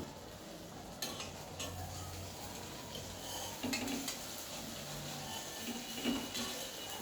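Split-pea lentil fritters cook in a pan with a soft, continuous sizzle, while light scraping and occasional metal clinks of utensil against pan sound close by.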